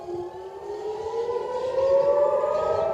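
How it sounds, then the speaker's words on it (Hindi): Civil defense air raid sirens wail over Tel Aviv, a loud rising tone that climbs and holds steadily, with no other sound present. "इसके बाद तेल अवीव में सायरन बज उठे।"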